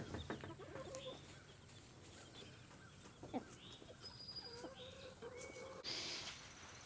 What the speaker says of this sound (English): So we got an order of meat chicks in from Murray McMurray Hatchery, and these are called Dorking